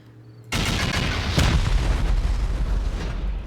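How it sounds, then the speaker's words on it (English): Rocket explosions blasting into a base during a raid in the video game Rust: a heavy boom bursts in suddenly after a quiet moment, then a loud, sustained rumbling roar with a sharper crack partway through. "Alright, 16 rockets later, we've opened up a gap here."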